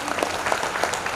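A crowd of devotees at a Hindu religious gathering claps in a short burst of moderately loud, scattered applause, with faint voices beneath.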